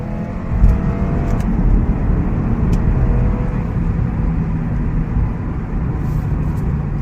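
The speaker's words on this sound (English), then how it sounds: "it doesn't really sound any different from any other 2-liter turbo" A Lexus IS 200t F Sport with a 2-liter turbo engine drones steadily from inside the cabin, a continuous low engine and road hum with no speech over it.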